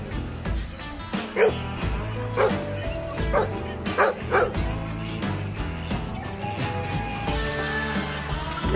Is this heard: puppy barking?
yes